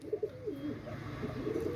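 Soft, low cooing from pigeons at a pigeon seller's, repeated in gentle rolling phrases, close by with a faint background hiss.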